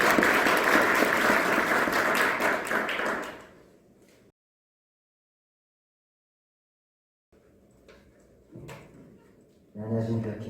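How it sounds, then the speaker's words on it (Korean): Applause breaks out to welcome the Vice Minister of SMEs and Startups at a policy forum, a loud dense patter of many hands that fades after a few seconds into silence, then soft handling noises and a brief voice. "박수로 환영해 주십시오."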